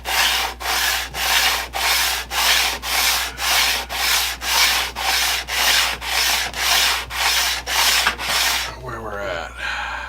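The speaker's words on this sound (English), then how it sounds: "Now we're going to sand this thing until these lines are gone." A hand plane being sanded during restoration, with steady back-and-forth strokes in an even rhythm of about fifteen passes, loud and close, ending in a brief rustle.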